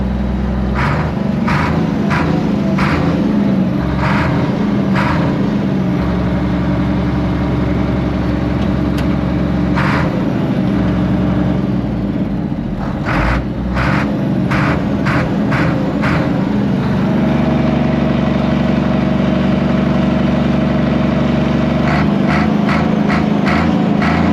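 A Case 1175 tractor, parked for 15 years and with a slightly sticking throttle, idles with a loud steady diesel rumble and repeated ticking knocks throughout, its pitch shifting a little midway.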